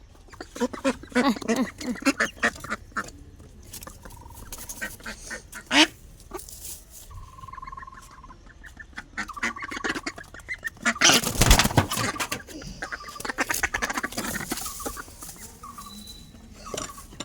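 Ducks at a duck farm house quack repeatedly in nasal bursts, some close and loud, others farther off, with a few brief human voices among the busy calls.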